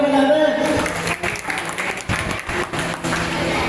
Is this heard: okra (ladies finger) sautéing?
no